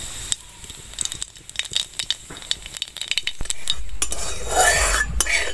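Mustard seeds and green chili go into hot mustard oil in a kadhai: sharp utensil clinks and scraping come first, then a hissing sizzle swells near the end, close and fairly loud, with no talk.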